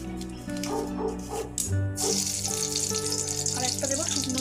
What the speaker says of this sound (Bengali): ওই মাছ ভাজার তেলে আমি দুটো তেজপাতা দিয়ে দেবো